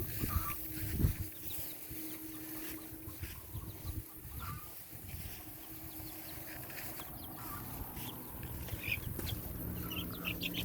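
Chickens clucking and chicks peeping around a farmyard, with scattered calls over a steady low hum of background noise.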